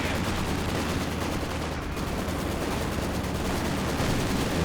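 Maxim machine guns firing in Company of Heroes 2, dense continuous bursts of rapid gunfire mixed with battle noise, loud and sustained with no talk.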